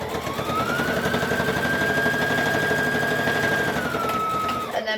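A home sewing machine stitching a hoodie seam forward and back, a loud continuous whirring motor with rapid needle chatter and a steady pitch that dips near the end.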